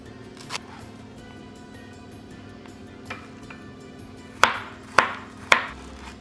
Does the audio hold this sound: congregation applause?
no